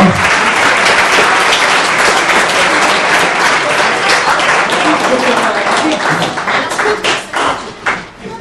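Loud, close crowd applause at a karting season awards event honoring the third-place Open category finisher, dense clapping that thins into scattered claps near the end, with a voice mixed in.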